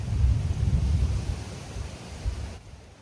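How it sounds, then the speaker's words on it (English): Far-off thunder rolls in a long, low rumble outdoors on rural property, swelling and slowly fading with some wind noise and no talking. "Don't know if you heard that thunder."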